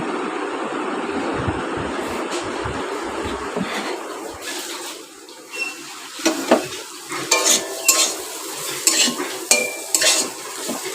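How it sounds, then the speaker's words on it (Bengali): Potatoes frying in a pan, a steady close sizzle running throughout, joined in the second half by repeated clinks and scrapes of a utensil stirring against the pan. "আলু ভাজছি"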